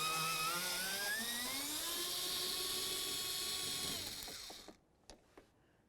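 A ratchet tool unfastens a 10mm bolt on a Dodge Journey front door, giving a steady high mechanical whine that climbs in pitch for about four seconds and then stops, followed by a few quiet clicks.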